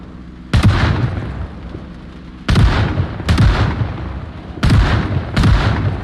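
Shotgun blasts in the Project Zomboid game as a zombie horde closes in: five loud, booming shots at irregular intervals over about six seconds, each with a short decaying tail, no speech.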